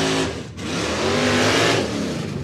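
A Manchero drag car with a 351 cubic inch Windsor V8 revving hard at a drag strip, a loud, close, rising engine roar that dips briefly, then climbs and holds.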